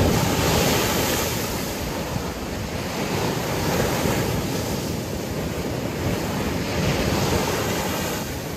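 Large storm waves from Hurricane Beryl's remnants pound the Guánica seawall in Puerto Rico, a loud, continuous roar of surf with steady wind buffeting the microphone and no voices.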